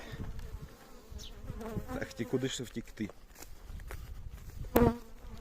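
An agitated honeybee at an apiary buzzes loudly near the microphone, its drone rising and falling as it moves around, while a person says a few words partway through.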